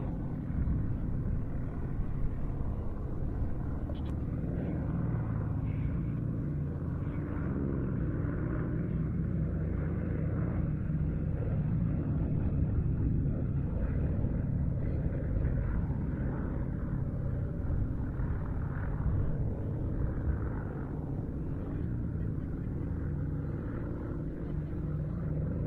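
Two aircraft, a 52 and an 18T, fly a formation loop at an airshow at Duxford, their engines a steady, loud low rumble that holds throughout with no voices.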